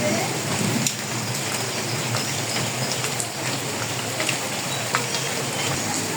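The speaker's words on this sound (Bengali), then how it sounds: "ওই যে দেখুন অনেক বৃষ্টি হচ্ছে" Heavy rain pours down without a break, a dense, steady hiss of countless drops striking surfaces that fills the whole stretch evenly and loudly.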